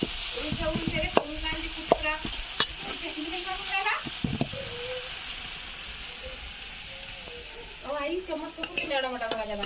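Tomatoes frying in oil for a rustic village-style dry flat bean stir-fry, with steady close sizzling and intermittent clinks and scrapes of stirring, some background voices faintly audible.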